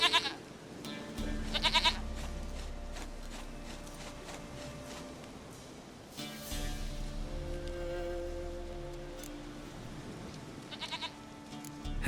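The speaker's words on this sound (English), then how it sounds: "Goat of mine! Dearest, sweetest goat!" A goat in The Witcher 3 video game gives bursts of bleating at the start, in the middle and near the end. Low rumbling game ambience and scattered clicks run underneath throughout, with no speech.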